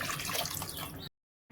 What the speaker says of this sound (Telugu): తర్వాత ఇలా 1 గ్లాస్ వాటర్ వేసుకోండి